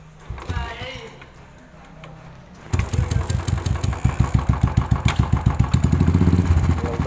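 A Royal Enfield motorcycle engine cranks over a few seconds of quiet and then catches into a loud, steady thumping idle that keeps running to the end, with someone speaking near the start.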